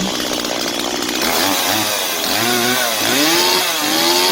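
Stihl MS170 chainsaw engine running just after starting, a loud close two-stroke buzz that idles unevenly, with pitch dipping and rising as the revs wander.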